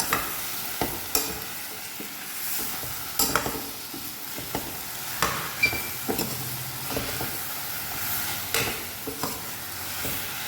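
Chicken stew with a spoonful of garam masala is stirred in a hot pan, the spoon knocking and scraping in a loose rhythm over a soft, steady sizzle, close up.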